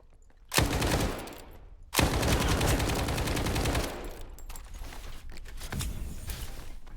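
Saiga shotgun and other gunfire in the STALKER 2 video game: two sharp, loud blasts a little over a second apart, followed by a dense stretch of rapid shooting that thins out into scattered, quieter shots.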